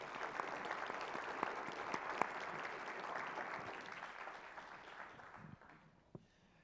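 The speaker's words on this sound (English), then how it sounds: "I would like us to give him a very warm applause." An audience gives Professor Jackson warm applause at a lecture, a dense, steady clapping that holds for several seconds before tapering off into near silence.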